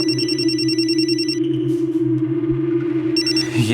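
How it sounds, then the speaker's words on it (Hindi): A telephone rings with an incoming call, its bright repeating electronic trill sounding in two bursts over a steady low hum, with no voices. "ये दोपहर से चौथी बार फोन कर रही है"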